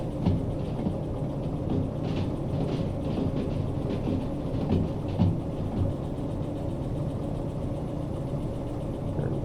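A train rolls along rails in the railway simulation game Derail Valley, a steady, continuous rumble with faint rhythmic clicks of wheels over track joints, no voices.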